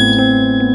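A notification bell sound effect rings once, a bright sustained ding whose tone hangs steady and loud for under a second.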